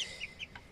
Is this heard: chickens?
yes